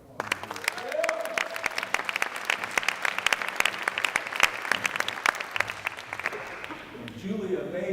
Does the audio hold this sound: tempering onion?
no